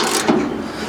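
Hydraulic filler cover being opened on an HY14C/HY16C machine during oil service, a single short scraping rub of the cover, close and fairly loud.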